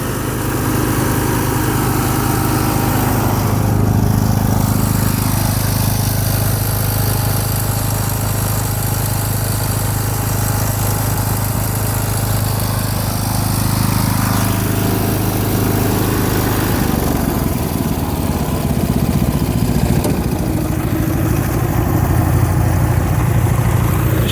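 John Deere 210 and 316 lawn tractor engines run after a cold start with a loud, steady, close mechanical drone that continues unbroken, with a slight shift in tone partway through.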